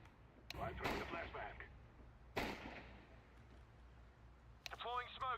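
Counter-Strike gunfire sounds as a few sharp, reverberant shots with decaying tails, set against a low game background, with a brief whistling effect near the end and no clear talk.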